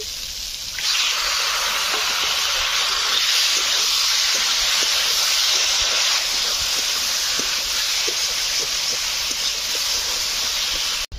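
Fish pieces go into a pan of cooking kochu greens and potatoes, setting off a loud, sudden, sustained sizzling hiss that holds steady close up, with no voices.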